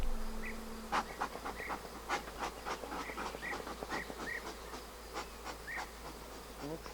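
Honeybees buzz steadily close by, one hum drifting over another, with soft knocks and brief rustles mixed in.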